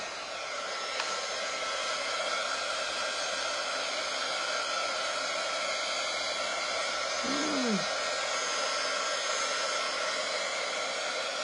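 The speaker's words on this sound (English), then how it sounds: "Let me just blow dry this a little bit because let's get those dried." A hair dryer blows steadily and loudly on a primitive farmhouse-style cardboard basket, a constant airy roar filling the whole stretch with no pauses and no talking.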